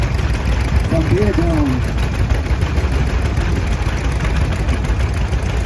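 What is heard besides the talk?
John Deere D antique tractor engine running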